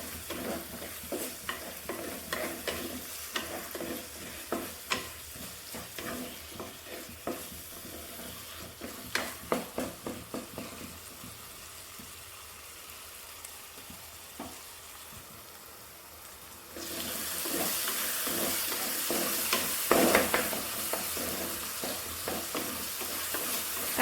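Ginger garlic paste and tomatoes fry in a pan for chicken, with a spoon scraping and stirring in repeated strokes over a soft sizzle, then a louder, steady hiss after a quiet pause.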